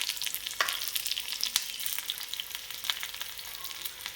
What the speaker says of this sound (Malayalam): അതിലൊരു 5-6 ചെറിയ ഉള്ളി അരിഞ്ഞിട്ട് ഇട്ട് കൊടുക്കുന്നുണ്ട്.